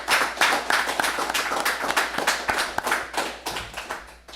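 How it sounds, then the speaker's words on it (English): A round of applause from the audience for graduates' families at an executive protection training graduation, close and lively with individual hand claps standing out in an uneven patter, no talking. "give a round of applause for you guys for being so supportive of these graduates"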